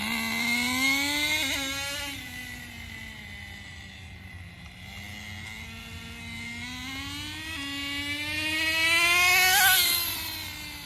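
A Traxxas 4Tec RC car engine, out of tune and fitted with a new transmission clutch, whines at a high pitch that climbs, drops at a gear shift, then climbs again to a loud rev near the end.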